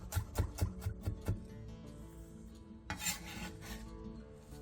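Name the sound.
knife mincing onion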